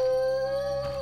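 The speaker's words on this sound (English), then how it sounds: "I think this dog was barking" A dog in The Witcher video game gives a single drawn-out, steady howl, close and clear, with no talking.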